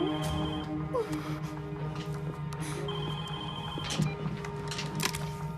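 A telephone rings in a tense hostage standoff, its repeated electronic trill sounding in bursts over a low room hum, moderately close, with no talk.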